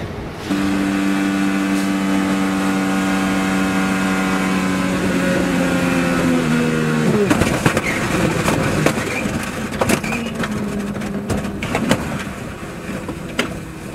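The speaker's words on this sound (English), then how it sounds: "let's go on board with Will Power and just listen." Onboard engine drone from an IndyCar at the 2012 Indy 500, a steady high harmonic whine that suddenly drops after about seven seconds into rough, scraping noise with sharp bangs.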